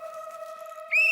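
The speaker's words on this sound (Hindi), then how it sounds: "टप्पू मजाक नहीं, सीटी ला इधर, सीटी ला।" A handheld whistle sounds a steady thin tone, then suddenly jumps louder into a shrill rising note at the end, short and close.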